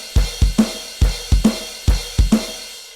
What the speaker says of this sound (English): And then it goes into a nice quarter note rhythm up on the crash.